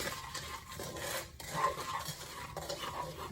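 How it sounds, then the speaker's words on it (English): Sichuan peppercorns sautéing over low heat in a pan, heard as soft, steady stirring scrapes and light clinks over a faint, gentle sizzle, with no voices. "I cook this, saute this Sichuan peppercorn like 1 or 2 minutes"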